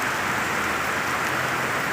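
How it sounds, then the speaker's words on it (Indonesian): Heavy rain pours steadily on a flooded street, a dense, even hiss with no breaks, loud and close throughout. "Hujannya gede."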